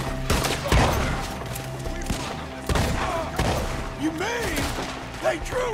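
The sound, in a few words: gunfire in video game Red Dead Redemption 2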